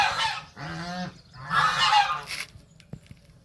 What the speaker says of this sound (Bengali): নদী দেখে ফিরে এসে দেখি এই রাজহাঁসগুলোকে কেমন হেলে দুলে চলছে